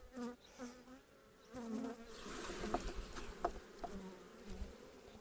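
Honeybees buzz around a hive, a faint droning hum with individual bees passing close, rising and falling in loudness.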